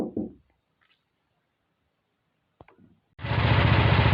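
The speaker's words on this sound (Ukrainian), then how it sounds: "Фактично чути роботу двигуна" A mini tractor engine fitted with a homemade muffler starts up after a quiet pause. It settles into a loud, close, steady chugging run with a rapid regular pulse.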